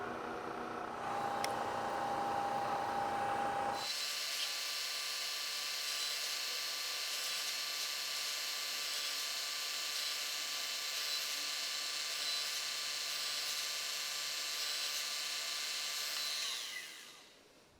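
NIMS mill drilling a hole through a step block, a steady high whining drone that runs for about thirteen seconds after a quieter start and then winds down, with no talk.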